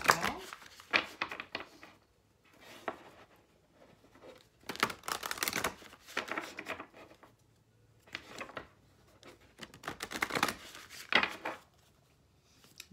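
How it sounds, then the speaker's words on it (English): Cards from an animal oracle deck being shuffled and pulled, with soft riffling and papery flicks coming in short bursts between pauses, close to the microphone, while a person talks quietly at times. "I'm also going to pull from the spirit of the animal oracle deck three cards as well."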